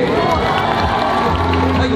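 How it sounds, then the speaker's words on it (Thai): Crowd at a short film premiere on stage, cheering and clapping loudly and steadily throughout, with voices mixed into the dense roar. "ขอเสียงปรบมือแล้วก็เสียงพีดังกันทั้ง3ท่านนะครับ"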